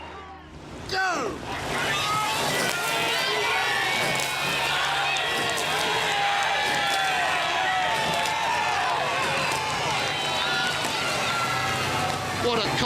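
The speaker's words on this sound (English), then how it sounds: "What a cocktail of noise, the crowd, the blades, the coxes, the umpires launch." A loud roaring crowd cheers at the finish of a rowing race, backing a British crew, with oar blades splashing, coxes shouting and an umpire's launch motoring alongside, a continuous dense din under a commentator's voice.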